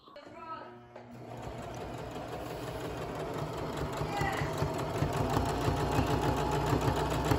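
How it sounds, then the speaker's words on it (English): A sewing machine running steadily as it stitches the outer edges of a T-shirt blanket, a continuous close mechanical whir that builds slightly in loudness, with voices faintly in the background. "we totally sewed the top of the blanket together completely on the outer edges"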